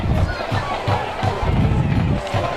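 A Meadville high school football crowd cheering after a touchdown and roaring to its feet, loud and continuous, with pulsing surges of noise and a play-by-play voice speaking over the din.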